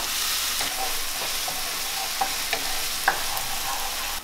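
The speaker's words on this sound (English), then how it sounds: "I'm gonna fry them until they turning golden brown and all the chili cook and give you a very good smell." Chili and garlic fry steadily in oil in a pan, a continuous loud sizzle with a few soft clicks of a stirring utensil against the pan, no voices.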